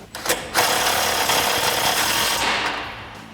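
Pneumatic impact gun runs on a nut holding a running board bracket on a 2021-2023 Ford Bronco, in a tight space: a couple of short taps, then one sustained loud whirring rattle of about two seconds before it tapers off.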